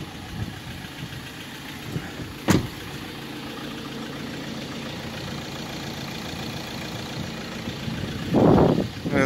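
A Ford Transit van's engine idling inside the cab, a low steady hum with a sharp click and a brief rising whoosh near the end.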